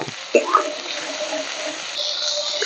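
A little water is poured into a pan of frying masala of ground tomato, capsicum, ginger paste, turmeric, chili and cumin powder, giving a sudden splash and hiss followed by a steady close sizzle.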